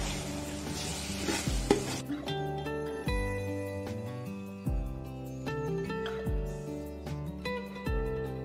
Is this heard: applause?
no